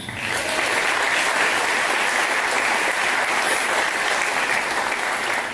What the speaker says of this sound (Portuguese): Salva de palmas pro Lula, turma